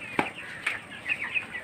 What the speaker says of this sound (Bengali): একটা মুরগি